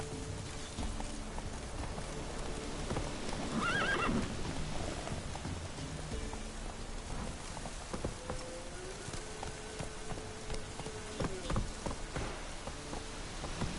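Horse in the video game Witcher 3: rhythmic hoofbeat clip-clop over a soft rain-like wash, with a brief neigh and scattered game effects, at moderate level without speech.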